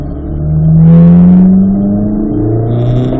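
A race car accelerates onto the track toward turn one, its engine loud and close, the pitch climbing through a gear, dropping briefly, then rising again as it pulls away.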